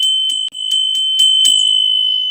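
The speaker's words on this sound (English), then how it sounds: "we're going to get started with the bell for your prosperity and well-being." A small bell rung to open a tarot reading session sounds with a sustained bright pure tone, struck in a steady series of light taps while the ring lingers, alone with no talk.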